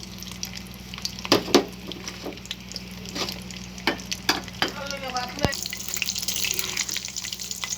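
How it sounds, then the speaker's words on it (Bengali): Whole spices, fenugreek seeds and garlic cloves fry in oil with a soft sizzle under repeated spoon scrapes and knocks against the pan, plus a steady low hum; no one talks. "সবগুলো মশলা খুব সুন্দরভাবে ভাজা ভাজা হয়ে আসছে।"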